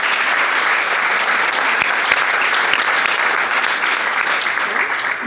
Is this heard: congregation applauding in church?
yes